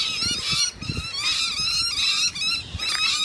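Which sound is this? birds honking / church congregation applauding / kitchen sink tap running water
birds honking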